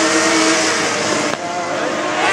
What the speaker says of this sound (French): Mathieu Duff vient de passer devant nous.